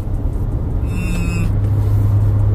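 A Mitsubishi Eclipse hums along from inside the cabin, a low steady road rumble with a brief faint higher tone partway through.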